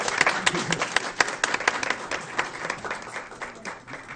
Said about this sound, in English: Please join me in giving her one more round of applause for being this honor.